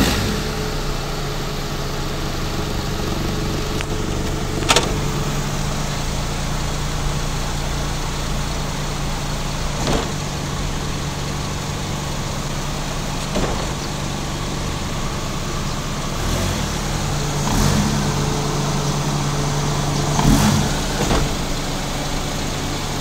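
A Mitsubishi Lancer Cedia with a 4G93 engine and a CVT transmission idles steadily while several sharp clunks from shift shock land at irregular intervals, each a brief knock over the engine hum.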